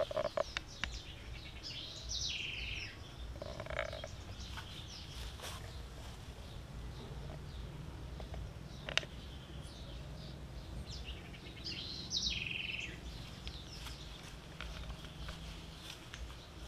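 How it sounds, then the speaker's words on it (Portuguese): Faint bird chirps come in short scattered bursts over a quiet outdoor background, with occasional soft rustles or steps. "O som dos passarinhos aí."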